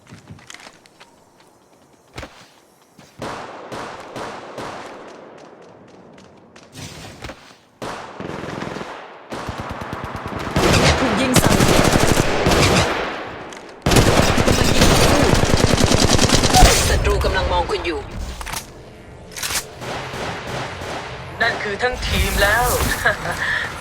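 Gunfire in the mobile game Apex Legends Mobile, loud bursts of rapid automatic shots mixed with other game effects, starting sparse and growing into sustained heavy firing, with a voice talking throughout.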